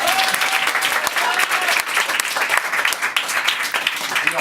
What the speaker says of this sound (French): Merci Régis, on l'applaudit bien fort.